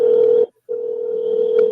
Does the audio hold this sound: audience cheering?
no